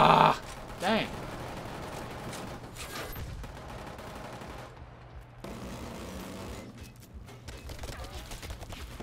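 Gunfire rings out in the online multiplayer shooter Killzone Shadow Fall, with a loud burst of shots at the start and scattered fainter shots and game ambience afterward.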